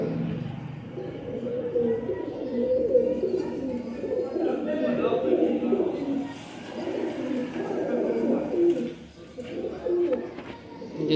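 Pigeons coo steadily at a Liaquat market pigeon sale, including an Indian breeder pair, their low murmuring calls continuous and close, mixed with crowd noise and people talking throughout.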